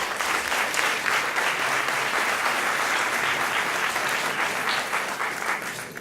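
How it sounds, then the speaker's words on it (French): A room of listeners at a research showcase event claps steadily to welcome a doctoral student, a full broadband wash of applause that holds for several seconds and then tapers slightly at the end. "Des applaudissements s'il vous plaît"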